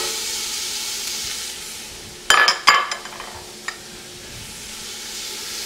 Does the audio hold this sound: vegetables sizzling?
yes